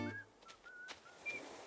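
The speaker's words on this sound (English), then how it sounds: "Oh, he's whistling." Rodeo, a villager in Animal Crossing, whistles a few short, thin pure tones in a quiet, faint little tune with gaps between notes.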